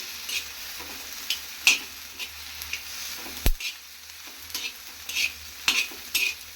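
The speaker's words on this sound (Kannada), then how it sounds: "ಇದನ್ನು ನೀಟಾಗಿ ಹೀಗೆ ಫ್ರೈ ಮಾಡ್ಕೊಳ್ಳೋಣ" Chopped garlic frying in oil in a pan for methi bath, a fenugreek rice dish, giving a steady close sizzle broken by several sharp spoon-against-pan stirring clinks and one heavy knock, with no voices.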